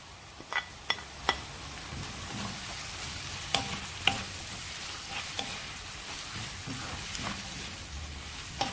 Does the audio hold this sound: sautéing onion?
yes